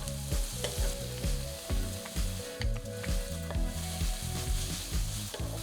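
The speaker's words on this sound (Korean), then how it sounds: "베이컨도 넣고 1, 2분 볶고 마늘도 넣어줍니다" Bacon and garlic stir-fry in a pan, a loud, continuous sizzle broken by regular scraping strokes of a spatula, with no voices.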